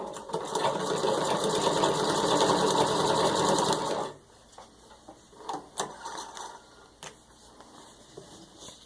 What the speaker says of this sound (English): you get to run the machine at full speed